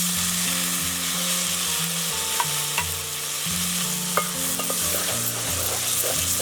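Onions and tomatoes fry in a pan for a Telugu gongura egg curry, a steady sizzle with scraping stirs and a few clinks of the spoon against the metal, close and continuous with no talking.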